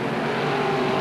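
Modified race cars roar down the front straightaway at Merrittville Speedway during a 1988 opening-night feature, a loud, steady engine drone filling the whole moment with no break.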